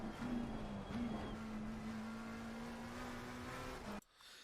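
A McLaren 720s EVO in Assetto Corsa Competizione holds a steady, droning engine note under acceleration at the Misano circuit, rising slightly before cutting off abruptly near the end.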